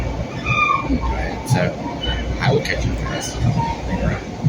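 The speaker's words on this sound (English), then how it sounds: "So here I am on the train," New York commuter train in motion, a steady rumbling ride with faint clicks and squeals, heard from inside a nearly empty car while someone talks over it.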